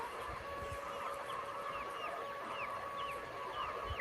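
Backyard hens cluck steadily alongside a rooster with a comb, a dense continuous chorus of fowl calls close by with no talking.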